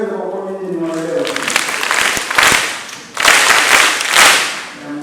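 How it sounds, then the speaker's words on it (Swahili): Children clap together as a group at a church gathering. Two loud bursts of applause build and fade over a few seconds, close and dense, and a voice speaks near the start. "Barua ya kwanza ya Yohane kwa watoto, tupigie makofi"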